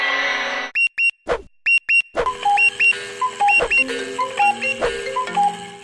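Repeated electronic alarm clock beeps in short, evenly spaced bursts, then a denser pattern of bright tones continuing steadily, loud and close with no talking.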